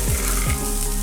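Rice frying in a pan for egg biryani, with a steady, close, loud sizzle and two short scraping strokes of stirring.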